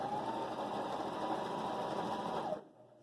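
A Husqvarna Viking Emerald 118 sewing machine runs steadily doing a double zigzag stitch, a close continuous mechanical whir that stops abruptly near the end.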